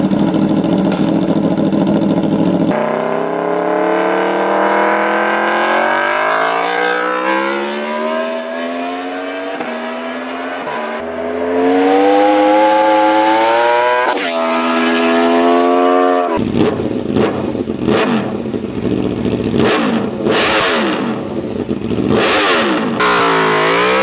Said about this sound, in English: The RS V4 is Aprilia's champion superbike with a fire-breathing 4-cylinder engine configured into a V4.